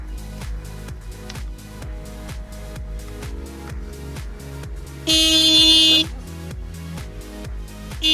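A vehicle horn is sounded as a prank on a road in an urban area of India: one loud, steady blast of about a second cuts through continuous background music.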